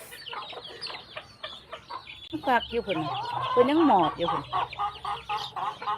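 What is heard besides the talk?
chickens clucking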